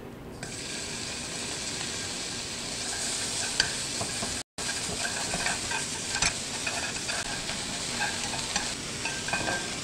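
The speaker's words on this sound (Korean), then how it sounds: "소고기 모두 볶았고요." Julienned beef stir-fried in a pan, a continuous close sizzle with stirring scrapes throughout, briefly cut off midway.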